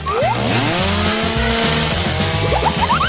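A saw cutting through a tall stack of layered food, a loud, close buzzing whine with rising and falling pitch sweeps, steady and without any talking.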